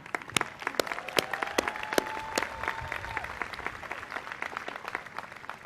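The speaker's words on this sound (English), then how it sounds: "So a big round of applause to our alumni." A crowd applauds steadily throughout at a college commencement ceremony, dense clapping filling a large room, with a few louder individual claps standing out.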